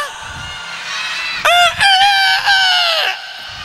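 A voice imitates a rooster crowing at a children's storytelling event for a Maulid celebration, with two loud, drawn-out crowing calls in quick succession over a faint background of murmuring.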